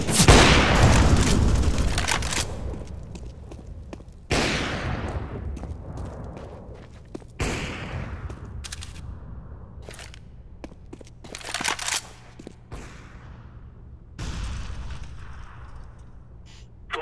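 Repeated grenade blasts in CS:GO (Counter-Strike: Global Offensive): several loud booming explosions, each with a long rumbling tail, arrive every few seconds alongside scattered gunfire, with no talking.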